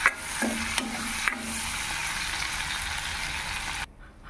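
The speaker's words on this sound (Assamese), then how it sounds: "প্ৰথমে নিমখ আৰু অকণমান হালধি দি মাছকেইটা অকণ ফ্ৰাই কৰি লওঁ।" Dried fish frying in a pan with salt and turmeric, a steady loud sizzle lasting about four seconds with a few stirring scrapes, then cutting off abruptly.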